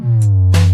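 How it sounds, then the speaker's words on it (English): A deep, sustained electronic bass note hums loudly, with short bursts of bright percussive noise over it. "one bass line"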